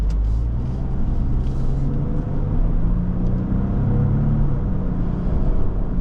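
A 2024 Lexus GX550 engine hums and rises in a low steady rumble while driving, heard from inside the cabin with road noise and no talk.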